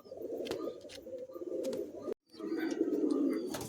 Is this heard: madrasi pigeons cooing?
yes